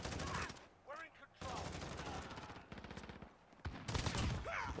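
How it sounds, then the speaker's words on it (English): Gunfire in a Call of Duty Modern Warfare multiplayer match, dense automatic bursts and rapid shots coming in loud clusters, mixed with in-game voices and radio chatter. "Who just shot at me?"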